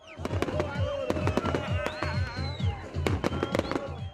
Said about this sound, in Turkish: Yeni yıl eğlenceleri havai fişek gösterisiyle devam etti.